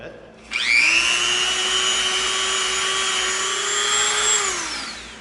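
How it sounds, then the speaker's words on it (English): A small Dremel rotary tool with a smoothing bit whines steadily at high pitch against EVA foam for several seconds, starting abruptly and winding down at the end, close by with no talking. "Now what we can do is we can come in with a smoother Dremel bit."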